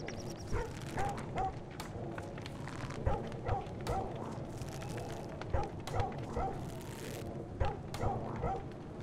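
Wirra, a character in Don't Starve Together, voiced with repeated dog-like barks and yips in a steady rhythm, close and moderately loud against background game music.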